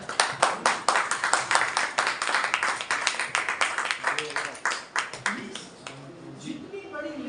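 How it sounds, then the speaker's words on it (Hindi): A training group in a business meeting breaks into a burst of loud, dense hand clapping that fades toward the end, with people speaking over it. "ताली।"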